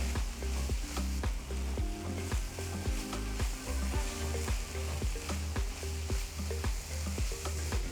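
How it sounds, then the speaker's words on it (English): Masala podi being stirred into a sizzling onion and tomato mix for Hyderabadi spot idli, with loud continuous frying hiss and rhythmic scraping strokes of a spatula on the pan throughout, no talking. "Stir everything together so the flavor coats the onion tomato mix perfectly."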